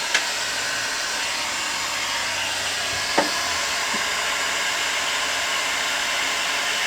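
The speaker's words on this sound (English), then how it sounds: "Now I'm going to do this side with the heat gun." A heat gun blows hot air onto a 1963 Ford Falcon barn find as a steady, loud whooshing hiss, with a couple of faint knocks along the way.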